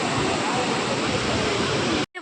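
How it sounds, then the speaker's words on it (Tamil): Loud, forceful rushing water roars steadily from a dam, broadband and close, before cutting off abruptly near the end. "தண்ணி எவ்வளோ ஃபோர்ஸாக வருது."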